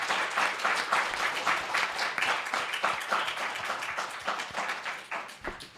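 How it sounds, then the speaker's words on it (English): An audience applauds candidates at an evening assembly-member candidate forum, steady mid-distance clapping from many hands that holds for several seconds and thins slightly near the end, with no talk over it. "Let's give our candidates another round of applause for being here this evening"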